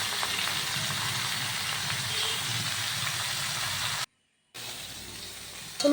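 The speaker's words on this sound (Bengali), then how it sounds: "আমগুলোকে আমি ঢেলে দিয়েছি ঢেলে দিয়ে বেশ খানিকক্ষণ আমি একটু নাড়াচাড়া করব" Raw mango pieces fry in oil while being stirred, giving a steady close sizzle and hiss for about four seconds, then a brief silent gap before the sizzling resumes.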